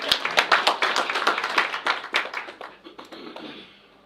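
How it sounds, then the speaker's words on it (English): Small audience at a county principals' conference clapping, a run of distinct close hand claps in quick rhythm that thins out and stops after about three seconds. "Can you clap for me"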